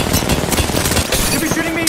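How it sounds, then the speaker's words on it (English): Dense automatic gunfire from Gibby in Apex Legends, loud rapid bursts filling the moment while a player talks over the shooting. "Gibby's shooting me."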